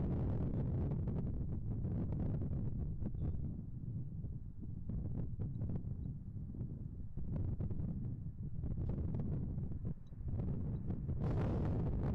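Wind at Schiphol Airport, Amsterdam, buffets the microphone in continuous low rumbling gusts, with irregular bursts of rustling and a stronger gust near the end.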